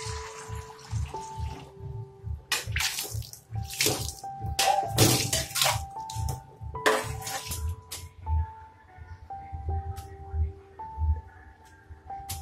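A steel kitchen rack is washed under running tap water, with splashing, rinsing bursts and occasional metal clinks, while someone talks over it.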